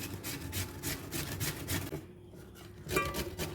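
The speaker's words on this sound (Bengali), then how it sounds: "আলু ছোলা মেশিন দিয়ে ছুলে নিয়ে এই যে কুচিয়ে নিচ্ছি" Raw potatoes for pakoras are shredded with a peeler-shredder gadget, making rapid rhythmic rasping strokes, close and fairly quiet, with a brief pause before the scraping resumes.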